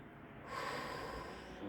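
One quiet breath drawn in through the nose during morning stretching exercises, a short hissing intake that rises after a brief pause and fades gently.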